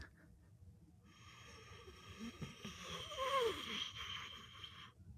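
Raspy, wheezing breaths come close to the mic, with a snorting inhale that swells and then fades, over a quiet electronic hum.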